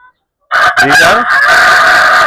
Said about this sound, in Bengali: এই যে মোরগগুলো দেখতে পাচ্ছেন এগুলো পাহাড়ি